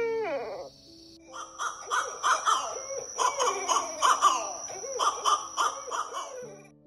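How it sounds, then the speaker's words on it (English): A barred owl gives a long, raucous series of hooting and cackling calls with wild, rapid whooping notes, loud and close. Several birds seem to overlap. "The heavily requested barred owl."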